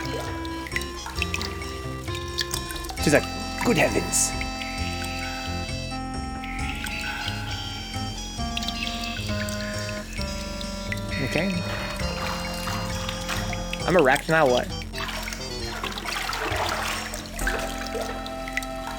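Water sound effects from the game The 7th Guest, with pouring and trickling splashes and gurgles that come and go under continuous talk and game music.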